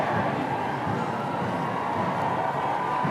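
A large outdoor crowd greets the waving king and queen with a dense, continuous roar of voices chanting in support, steady and unbroken, heard from within the throng.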